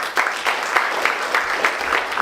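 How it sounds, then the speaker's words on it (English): Audience applause at a sickle cell disease and hemophilia conference, a dense steady patter of many hands clapping with small rhythmic surges, moderately loud and close, with no voices over it. "round of applause to our chair"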